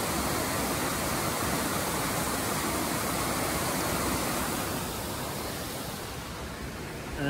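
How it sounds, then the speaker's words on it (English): A waterfall beside the Daylesford to Ballarat railway trail gives a steady, full-bodied rush of falling water, constant and close, with no voices. "Pretty cool waterfall here."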